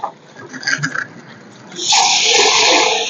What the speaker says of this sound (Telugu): ఇప్పుడు ఇందులో అయితే నీళ్ళు పోసి నానబెడతాను.